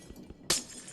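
A glass block breaks in Minecraft with one sharp, bright shattering crash midway, standing out over a faint, quiet game background.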